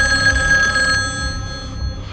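A telephone bell rings insistently in a tense Korean film scene, loud and close for about a second before cutting off to a low room hum.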